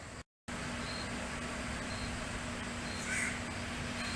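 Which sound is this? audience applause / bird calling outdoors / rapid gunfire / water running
bird calling outdoors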